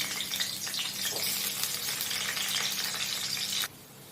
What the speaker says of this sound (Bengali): এরপর এতে আমি আলুগুলো দিয়ে দেবো ভাজার জন্য।